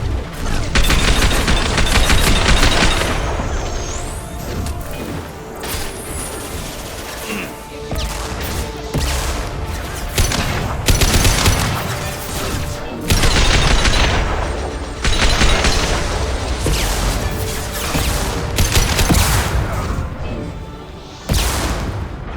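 Gunfire in Mass Effect 2, with sustained loud bursts of shots and booming impacts in near-constant combat, broken by a few brief lulls.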